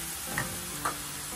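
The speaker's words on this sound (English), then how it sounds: "I'll start adding my garlic." Garlic sizzles in a hot pan for spaghetti Bolognese, a soft continuous frying hiss with two brief clinks or scrapes, fairly close and without speech.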